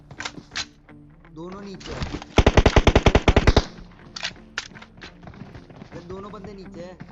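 Mk 14 rifle gunfire in a video game comes as a rapid burst of about a dozen loud sharp shots, with footsteps and game sounds around it.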